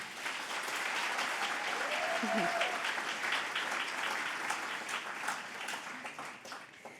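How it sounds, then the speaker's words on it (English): Sustained audience applause at an awards gala, fairly distant and steady for several seconds, fading slightly toward the end, with a brief voice or whistle in the middle. "Please give a round of applause to them one more time"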